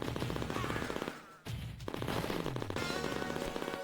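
Machine gun fire in the arcade game Cadillacs and Dinosaurs: dense, rapid automatic bursts fill the scene, broken by one brief pause before the rattling resumes with clattering impacts.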